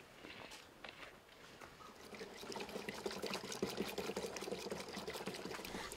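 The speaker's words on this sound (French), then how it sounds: "À 1 litre du mélange, ajoutez 20 litres d'eau." Water poured in a steady, splashing stream into a diluted homemade spray mixture meant against fall armyworm caterpillars, starting quietly and growing fuller and louder as the flow continues, with no talking.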